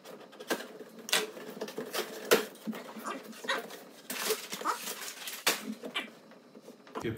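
A refurbished Ninja AF500EU air fryer is unboxed with a series of close, irregular cardboard and plastic rustles, taps and scrapes, sharp bursts separated by brief quieter moments.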